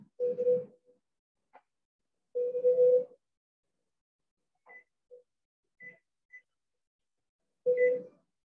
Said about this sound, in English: Set a 30-minute timer.